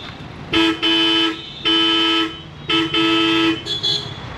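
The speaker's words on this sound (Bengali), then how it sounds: "এটা হলো ব্রেজার নতুন হর্ন।" A new Hella horn fitted to a Brezza car sounds in three loud, close, two-tone honks of roughly a second each, followed by two quick short toots, with quiet gaps between.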